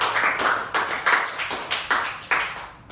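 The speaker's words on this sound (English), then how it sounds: "Let's give yourself a round of applause." A small group in a workplace training session claps in a handful of distinct, fairly even bursts, close and moderately loud, with no talking over it.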